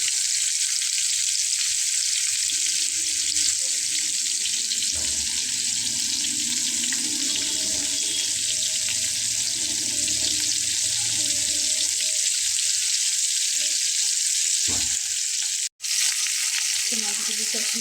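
Pieces of katla fish fry in hot oil in a pan, a loud, continuous, close sizzle that holds steady throughout, with faint stirring and one brief dropout near the end.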